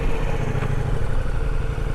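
A new motorcycle's engine idles close by with a steady, low, throbbing rumble and light mechanical clatter, heard alone with no voices.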